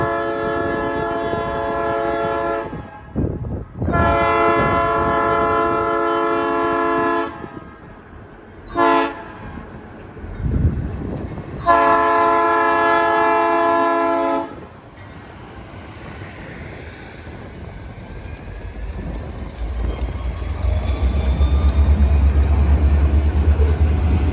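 Freight train led by two SD40 locomotives hauling loaded cars up a hill, its horn blaring in several long and short blasts, then the heavy rumble of the passing train building up close and loud.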